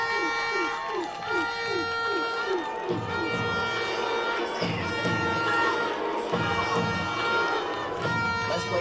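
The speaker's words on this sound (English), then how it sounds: "Give them a round of applause for me" Spectators at an under-15 youth football final in Jamaica cheer and applaud the champion team. Sustained crowd noise and clapping play under an amplified announcer voice and some music.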